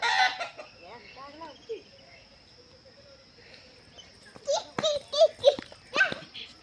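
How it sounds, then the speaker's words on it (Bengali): A large chicken clucking close by in a series of short, uneven calls that grow louder and more rapid toward the end, with a voice briefly mixed in. "এই যে বড় মুরগি তো, অনেকটা বড়।"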